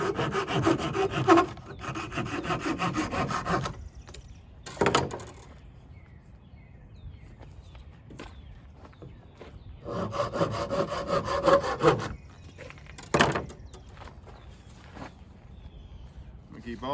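A dead pine branch being sawn by hand in two long bouts of steady back-and-forth strokes, close and fairly loud, with sharp knocks and handling noises between the bursts of cutting.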